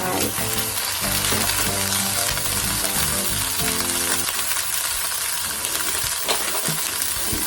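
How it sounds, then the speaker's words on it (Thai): Bamboo shoots hitting hot sesame oil in a pan, giving a loud, constant crackling sizzle close up, with occasional stirring scrapes and clinks over the frying. "ใส่น้ำมันงาลงไปนะคะ ลงไป เสร็จแล้วก็ ใส่ หน่อไม้ลงไป"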